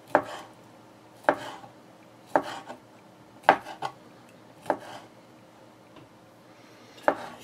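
Sausages being chopped into small pieces with a knife on a board, six sharp, evenly spaced cuts about a second apart, close and fairly loud with faint noise between strikes.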